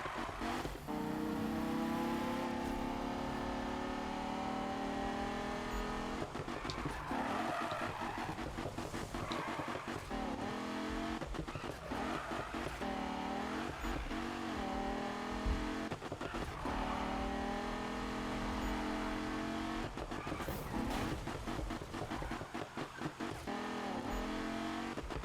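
Race cars in the Need for Speed video game on a victory lap, engines roaring loud and continuous, with repeated revving gear shifts and occasional tire squeal and skidding throughout.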